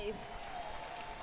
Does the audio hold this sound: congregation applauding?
yes